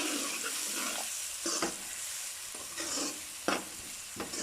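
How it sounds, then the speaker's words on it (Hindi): Whole spices fry gently in ghee with a constant soft sizzle over medium-low flame, while a spoon stirs through them in periodic scraping strokes, close and steady, for an aloo anday ka salan curry. "तो इसमें हम सारे मसाले ऐड कर देते हैं। हल्के से हम इनको भून लेंगे।"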